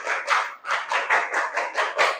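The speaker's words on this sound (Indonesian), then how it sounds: "tepuk tangan buat kelompok gaya." Students in a classroom clapping for a class group, a small group's rhythmic bursts of hand claps in quick, regular pulses, close and lively.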